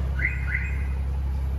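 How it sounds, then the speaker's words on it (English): A StarLine car alarm on a BMW 135i disarming gives two quick rising electronic chirps over a steady idling engine hum. "see, the alarm was armed, it's now disarmed"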